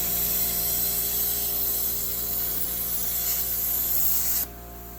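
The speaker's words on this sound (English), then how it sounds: "then we'll do our first test cut with the Yes Welder 65" A Yes Welder 65 plasma cutter making a test cut in steel plate, giving a steady loud hissing rush with a constant hum that holds evenly and then cuts off sharply near the end, with no voices.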